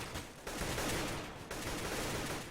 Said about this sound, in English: Just gun battle going on here.